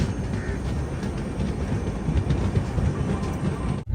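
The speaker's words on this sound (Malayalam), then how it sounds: "ട്രെയിൻ ഇപ്പോൾ നല്ല സ്പീഡിൽ തന്നെ പോകുന്നുണ്ട്" The Aronai Express runs at speed from Thiruvananthapuram toward Silchar, a steady, loud rumble of wheels and carriages with faint rhythmic clatter throughout.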